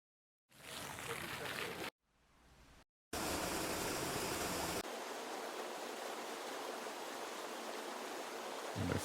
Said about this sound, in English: I wonder if some water flow like that would